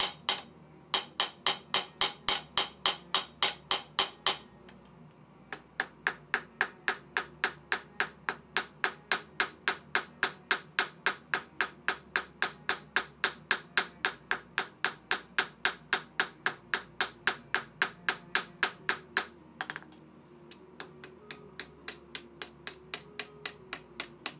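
Steady hammer blows ring out on steel as a knife edge is forged over a hardy hole tool, a long run of evenly spaced, loud metallic strikes with a brief pause early on and another near the end.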